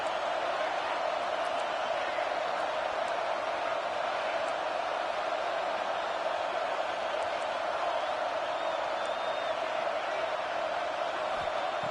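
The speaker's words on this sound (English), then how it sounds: "It's early, but this crowd is fired up. Listen to this noise here." A fired-up football stadium crowd roars in a steady, dense wall of cheering that holds at full strength for the whole stretch, with no pauses or lulls.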